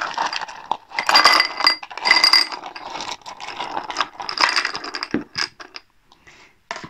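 Small stones clink and rattle into a drinking glass alongside the rustle of paper being stuffed into another glass, in uneven close bursts of clatter with quiet pauses between them.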